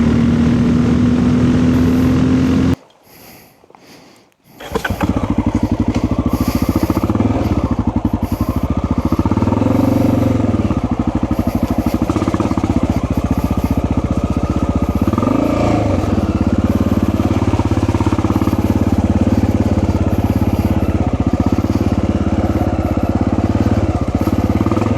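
Motorcycle freshly fitted with a Dynojet jet kit, its engine droning loud and close under riding, briefly cutting out before revving back up and holding a steady, wavering roar with shifts in pitch.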